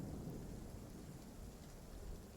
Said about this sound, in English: A low flash of thunder crashing over the horizon